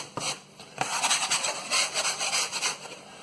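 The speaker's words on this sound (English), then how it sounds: "I'm going to knead the dough, get it into some sort of shape" Bread dough is kneaded and scraped by hand on a work surface, giving close, soft rubbing and rasping strokes in an uneven rhythm, quiet and with no talking.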